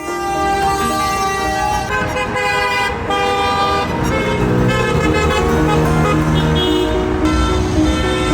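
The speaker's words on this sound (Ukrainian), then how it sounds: "Автомобілі, які проїжджають повз, сигналять не з протесту, а на знак підтримки." Passing cars sound their horns in support of families standing along a Ukrainian roadside, a dense overlapping blare of loud, sustained honks continuing throughout.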